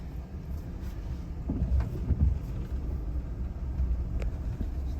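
A car rolls slowly through a lakeside campground at Panther Pond, its steady low engine rumble and tyre noise continuous and close throughout, with a few faint knocks and crunches over the ground.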